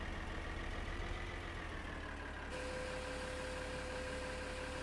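A tractor engine in Farming Simulator 2013 drones steadily while cutting grass, a constant mid-pitched hum with a faint whine and no speech.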